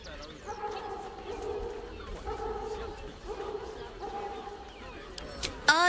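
A dog in the video game Baldur's Gate 3 gives repeated whimpering yelps in a steady rhythm, moderately close, over a low background, with a sharp sound near the end.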